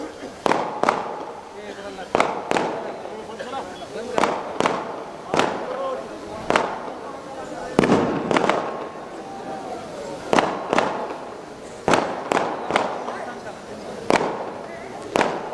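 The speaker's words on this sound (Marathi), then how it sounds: "हे फटाके बंद करा रे" Firecrackers at a public political rally burst in a series of sharp, loud bangs, roughly a dozen irregularly spaced over about fifteen seconds, with someone speaking over the crowd in between.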